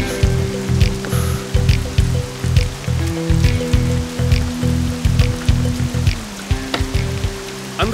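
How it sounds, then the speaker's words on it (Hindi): Steady rain patters and splashes on surfaces throughout, with scattered heavier drips, fairly loud and close, no voices. "बारिश होने वाली है।"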